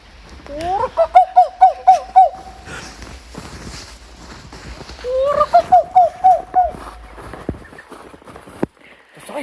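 A voices a guttural, owl-like cry in two separate bursts of rhythmic, pulsing hoots with a pause between them, a human voice imitating an animal call.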